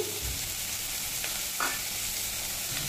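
Eggplant frying in a pan with cumin, coriander and turmeric powder, giving a steady close sizzle with occasional stirring scrapes and no talk.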